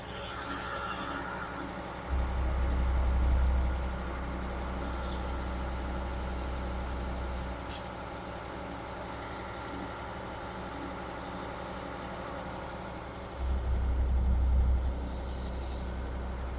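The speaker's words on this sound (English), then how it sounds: "This truck does get a little bit loud, so you might be a little tough to hear me." A 2008 Sterling LT9500 hydro vac sewer excavation truck with a Vactor 2100 unit runs at raised throttle, giving a steady mechanical drone with two deep, louder engine surges and a brief sharp click in between.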